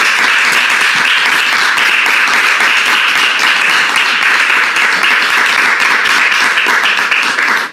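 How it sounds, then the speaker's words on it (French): Loud, sustained studio audience applause on a French talk show, a dense wall of clapping at constant intensity until a sudden cutoff at the end. "Je voudrais entendre les applaudissements du public encore plus fort."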